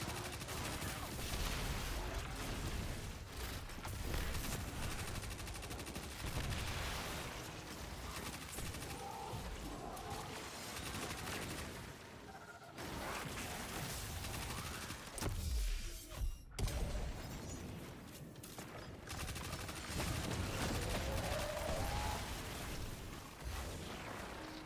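Gunfire in Destiny 2, a dense stretch of rapid shots and booming impacts running continuously at moderate level, with occasional brief lulls and faint talk underneath.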